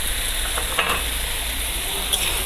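Chopped tomatoes and cumin sizzle steadily in a hot pan while a spoon stirs them with soft scraping strokes, loud and close, for an Assamese fish curry.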